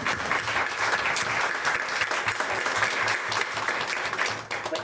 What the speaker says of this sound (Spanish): Eso merecía un aplauso